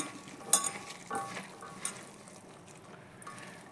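Broad bean and tomato curry with salt, turmeric and a little oil being mixed by hand in a pan, soft scattered stirring and scraping with a few sharper clinks, fairly faint and quiet.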